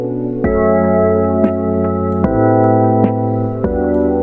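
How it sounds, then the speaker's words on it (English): Vintage chorus effect in FL Studio on a sustained synth chord, with rich stacked tones shimmering and wavering, changing chords every second or so with soft clicks at each change, alone and close. "This is vintage chorus in FL Studio,"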